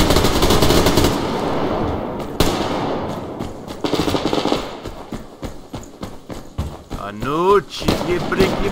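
Bursts of AK rifle fire in the video game Survarium, loud rapid shots and clatter in several volleys mixed with other game noises, with no talk in the clip.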